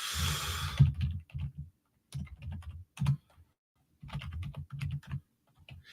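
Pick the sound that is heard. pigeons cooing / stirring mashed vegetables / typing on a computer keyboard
typing on a computer keyboard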